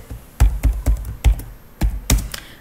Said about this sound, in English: So let me just type in my password for this.